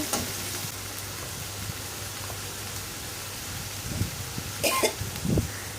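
Garlic frying in a pan and being stirred, a low continuous sizzle with a few scraping strokes near the end, close and fairly quiet, no talking.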